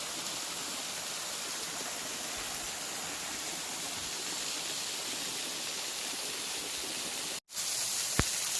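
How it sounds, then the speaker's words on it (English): Bridal Veil Falls, a spring-fed waterfall in the Sacramento Mountains, roars as a steady, loud, close wash of falling water, broken only by a brief cut near the end. "Bridal Falls is the most spectacular waterfall in the Sacramento Mountains"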